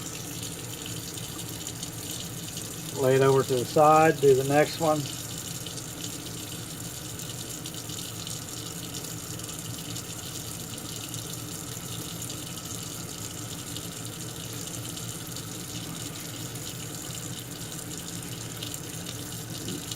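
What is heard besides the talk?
rinsing revolver parts under cold tap water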